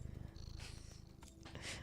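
A cat purrs close by in a soft, rhythmic rumble of regular pulses, quiet and steady with faint background noise.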